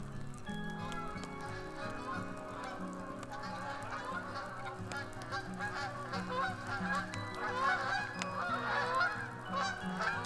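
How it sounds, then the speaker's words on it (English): A large flock of geese honks while flying overhead in snowy weather, many overlapping nasal calls building in density and loudness over a faint steady background hum. "there's a ton of geese flying by right now"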